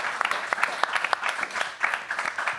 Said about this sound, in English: a warm round of applause for our speakers